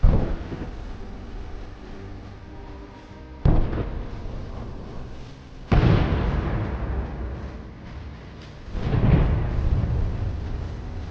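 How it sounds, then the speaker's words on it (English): Missile strikes hit a Russian military convoy in a wooded area, producing three heavy booming explosions spaced a few seconds apart, each followed by a long, fading rumble. "The shells explode spectacularly, destroying the equipment along with them."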